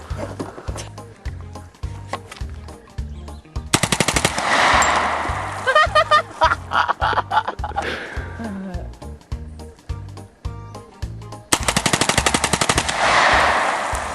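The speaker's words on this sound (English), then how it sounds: "I'm just gonna pull the gun forward. And with every recoil, it's gonna make it go tha, tha, tha, tha, tha, tha, tha." A rifle fired by bump-firing lets off long, loud runs of rapid shots that crackle like an automatic weapon. The bursts are broken by short gaps and mixed with some nearby voices.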